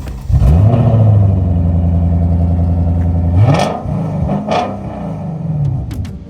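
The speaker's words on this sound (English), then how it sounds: "This man put 7 exhausts on his twin-turbo Lexus LS460." A twin-turbo Lexus LS460 fitted with seven exhausts revs up loud and close in a deep sustained roar, holds steady for about three seconds, then drops to a burbling, popping idle with short blips.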